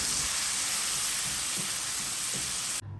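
Ground spice paste, red bird's-eye chilies and candlenut sautéing in a pan, a steady loud hiss of frying oil throughout with faint stirring knocks, ending abruptly.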